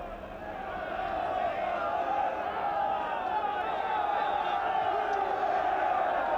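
A large football crowd at Lincoln City's ground in 1982 applauds and murmurs steadily as the second half begins against Millwall, a broad continuous roar heard from a distance.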